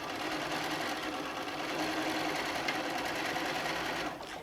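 A sewing machine top-stitching a rod pocket on a quilt panel runs in a steady, fast mechanical whir, close and continuous, then slows and stops near the end.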